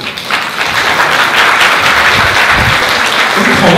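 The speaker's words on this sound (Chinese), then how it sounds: "我哋亦都请大家用热烈嘅掌声欢迎 Tasha 嘅爸爸带领 Tasha 进场" Loud, sustained applause from wedding guests at an evening banquet fills the room continuously, dense and close, with a crowd murmuring beneath the clapping.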